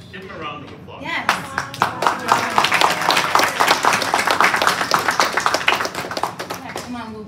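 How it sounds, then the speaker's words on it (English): Steady applause from a crowd fills the space, with voices cheering and talking over the clapping. "Please give him a round of applause."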